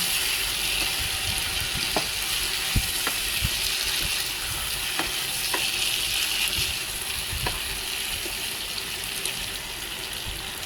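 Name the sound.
sautéing and stirring patola dish in a pan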